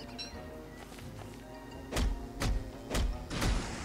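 In Don't Starve, a hammer takes things apart in four evenly spaced, dull thumping blows, over a low steady backdrop of game ambience.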